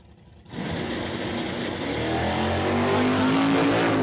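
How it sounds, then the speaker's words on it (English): A 1968 Chevrolet Chevelle drag car launches on a nitrous-assisted full pass at a dragstrip, its engine roaring loud and steady after a brief quiet start, pitch climbing through the run as it pulls hard to the top. "Chevrolet Chevelle is getting a full pull out of it this time"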